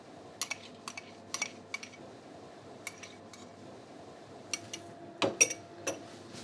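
A spoon mixes milk and golden syrup in a bowl, giving quiet irregular clinks and scrapes against the side of the bowl, some spaced out and a few clustered together near the end, with no one speaking.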